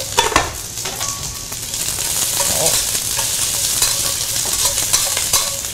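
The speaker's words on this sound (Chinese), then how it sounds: "洋葱要大把的放进去了" A big handful of onions hits a very hot wok with pork liver and ginger slices, bursting into a loud, close, steady sizzle with scraping stir strokes and clinks as it is tossed over high heat.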